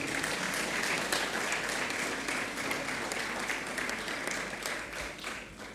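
A crowd at a ceremony presenting a parchment to a Portuguese president claps in a full, continuous round of applause that holds steady and then tapers slightly toward the end, with no voices over it.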